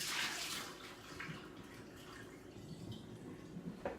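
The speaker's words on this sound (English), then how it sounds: "We're going to empty that out in the sink." Water from the cup of a Gaggia Classic espresso machine is poured into a sink, giving a steady splashing rush of liquid that runs continuously for a few seconds.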